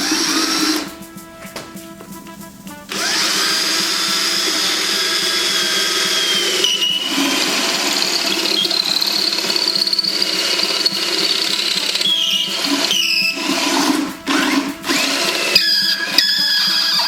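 A power drill whirs loudly for a long stretch, briefly dropping off a couple of times before spinning up again, while working on a 1946 brush cutter with a Clinton engine.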